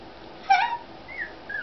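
Twelve-day-old puppies whimper close by, with one brief rising whine followed by fainter, thinner whimpers, and a low background hiss.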